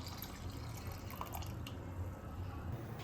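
Second-press coconut milk pours into moong dal payasam in a pot, making a faint, steady liquid trickle for a few seconds.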